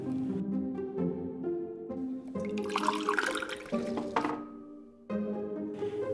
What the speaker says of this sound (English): Hey John, could you pour some water for me in the glass?